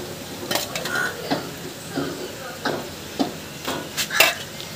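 Pots and utensils clink and scrape in a home kitchen as rice and meat are layered for biryani, a series of sharp metallic knocks spread irregularly across the moment, close and fairly loud.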